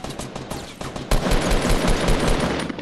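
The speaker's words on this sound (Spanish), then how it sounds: "Me han disparado." Rapid Fortnite gunfire rattles in dense bursts, a short stutter of shots followed by a louder sustained volley, close and alone with no talk over it.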